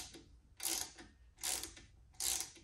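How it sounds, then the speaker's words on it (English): A ratchet with a 10 mm socket tightens the nut on a threaded stud of a 1990s Delta 17-900 drill press, making three close, distinct bursts of rapid ratcheting clicks with brief pauses between strokes and no talking. "use a 10 millimeter socket and you have to tighten down that nut"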